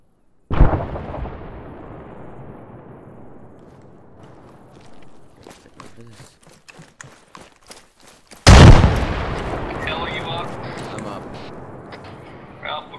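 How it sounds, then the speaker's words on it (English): Heavy artillery bombardment in a military shooter game: a loud close blast opens, followed by a long rumbling decay, a scatter of smaller distant impacts, then a second powerful nearby explosion that rolls off slowly. "there's just heavy bombardment near my position"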